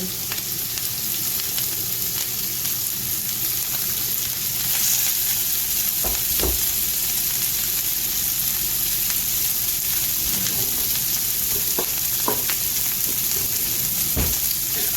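Pork and shredded cabbage fry in a little oil in a pan, a dense, even sizzle that runs throughout, broken by occasional sharp clinks and scrapes of stirring.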